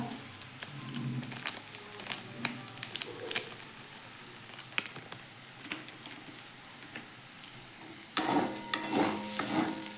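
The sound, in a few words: sautéing spice masala for potato curry in a pan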